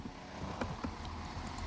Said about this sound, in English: That's a train that's next to me.